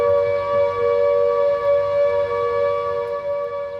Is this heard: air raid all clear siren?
yes